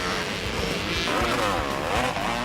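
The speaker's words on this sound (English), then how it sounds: "You can almost tell what kind of a motorcycle it is just by the sound." An old racing motorcycle engine drones loudly and continuously at an off-road mud racing event, its rough, steady roar holding throughout with slight rises and falls in pitch.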